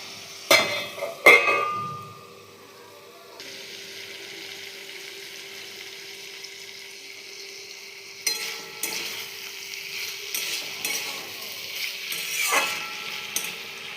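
Eggplant cooking in hot oil in a covered pan after a sprinkle of water: a few sharp clanks at first, then a quiet, steady sizzle that grows louder and busier toward the end.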